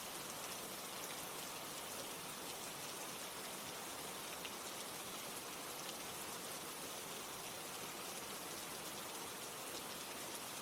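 Steady rain falls in a continuous even hiss, a soft unbroken wash of drops with no voices.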